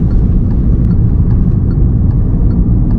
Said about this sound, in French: je vais m'insérer, rester donc à gauche et faire mon demi-tour